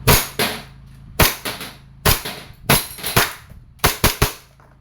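WE 1911 Classic Silver airsoft gas pistol firing BBs, with about ten sharp, close cracks, some single and some in quick pairs or triplets, spread over a few seconds, each followed by a short ringing tail and no talk.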